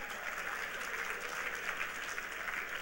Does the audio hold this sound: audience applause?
yes